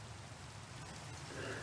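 Rain falls steadily in Minecraft on a farm, a soft continuous hiss with a low rumble under it, faint and unbroken throughout.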